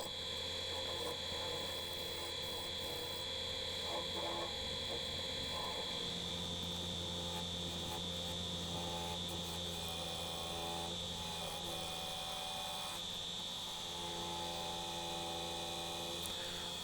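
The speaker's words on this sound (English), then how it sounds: "We're spinning at 1400 RPM with the 40/40 grind bowl gouge." A wood lathe spins a sycamore bowl blank at 1400 RPM, giving a steady, continuous mechanical hum and drone that holds level throughout with no breaks.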